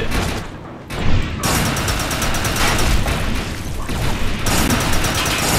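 Grenade blast in the video game Defiance, a sudden booming burst followed by a dense stretch of loud rumbling gunfire and mechanical combat noise.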